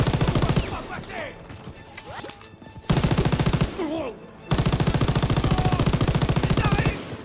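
Machine-gun fire in the Call of Duty WWII D-Day campaign, heard as loud, dense, rapid bursts that break off briefly and resume. Faint shouted voices and battle noise sit underneath.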